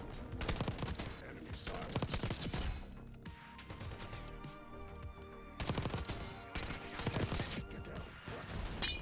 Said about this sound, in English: Oh my god, who blew the car up? It was just smoking and that's what happened.